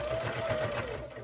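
Sewing machine top stitching a bag, a soft steady whirring with a quick regular pulse, fairly quiet and close.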